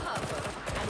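Suppressing gunfire in a video game, a brief, rapid string of fairly loud rhythmic shots lasting about a second.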